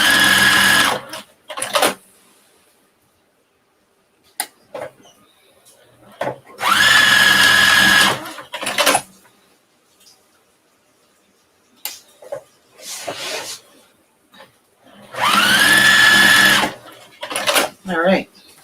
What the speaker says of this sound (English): just go back stitch over top of all these seams here